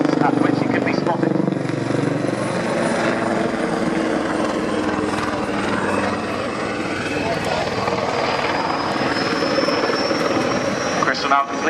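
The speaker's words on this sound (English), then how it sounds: "complete a series of wing overs to show the rapid turn in direction the helicopter is capable of" A helicopter performs wing overs at the Royal Navy International Air Day at RNAS Yeovilton, its rotor throbbing loudly and continuously as the engine pitch shifts through the turns, with a commentator speaking over a public address.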